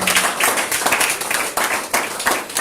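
A church congregation applauds its preacher, a dense, steady burst of clapping that fills the space from start to finish with a slight swell near the end.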